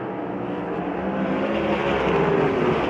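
USAC Silver Crown race car at Belleville surges forward under full throttle, a loud broad engine roar building steadily as the field accelerates around it.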